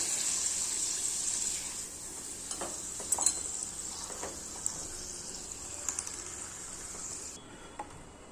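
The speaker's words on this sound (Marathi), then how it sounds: "मी तुम्हाला इथे आता तळून दाखवते की किती छान याचा कलर येतो हे बघा किती छान तळत येतो पापड" Sabudana and potato papad frying in hot oil, a steady bright sizzle running throughout with scattered crackles and soft stirring clicks, close and alone, cutting off near the end.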